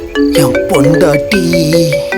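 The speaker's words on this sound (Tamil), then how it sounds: "ஃபோன் அடிக்குது பார்த்தியா?" A phone ringtone plays loudly and close in a melodic repeating pattern, with someone speaking briefly over it.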